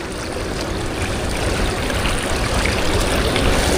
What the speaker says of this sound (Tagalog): Lakas pa naman ng agos. O current.